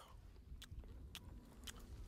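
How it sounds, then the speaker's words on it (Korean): A man chews on a raw snake, each bite giving a crisp wet crunch, three distinct crunches in a slow rhythm over a low background rumble, close and with no talk. "한번 씹어 먹어봐야 돼."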